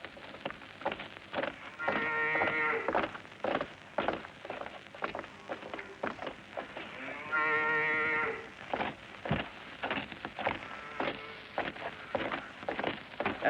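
Cattle low in two long, clear moos, with shuffling and clatter between them; no one speaks.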